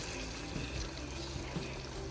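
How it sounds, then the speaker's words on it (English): Water going into a pot of browned beef with onions, bell peppers, green onions and garlic for a soup, a steady close pouring and trickling hiss with a faint sizzle underneath and no voices. "I'm gonna start putting water."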